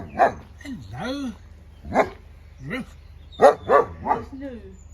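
A young dog new to crowds barks in short bursts at visitors at an ape and monkey sanctuary near Brecon, Wales, several sharp yelps spaced over a few seconds while people talk nearby.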